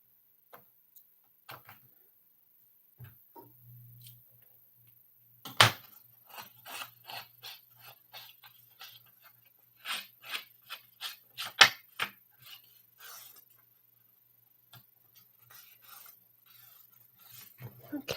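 Paper trimmings are snipped and cut from a bullet journal in a run of short, crisp, close ticks and scrapes, quiet gaps between them and little talk.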